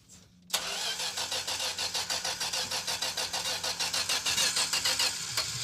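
A Duster car engine fires up after gasoline is poured down the carburetor, a brief crank catching suddenly into a loud, close idle with a fast, steady pulsing rhythm.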